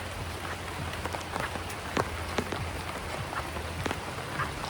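Rain patters steadily and close on surfaces at a hot spring resort, a dense hiss with scattered sharper drops.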